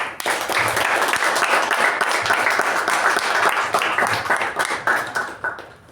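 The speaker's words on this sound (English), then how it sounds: "that a big round of applause" A meeting audience gives a big round of applause: dense, steady clapping from many hands that fills the room for about six seconds before tapering off at the end.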